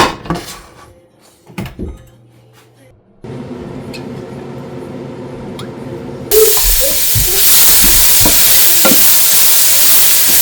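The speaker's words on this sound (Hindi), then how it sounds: "उस प्याज को आपने ऑयल के अंदर थोड़ा सा स्टिर फ्राई करना है until it gets translucent" Chopped onion hits hot oil and stir-fries, a bright sizzle rising in the latter half with utensil clinks, after earlier quieter kitchen handling and someone talking over it.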